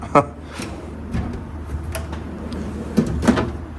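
Metal tool box drawers open and close in a workshop, giving sharp sliding clunks and knocks at the start, midway and near the end, with someone talking in between.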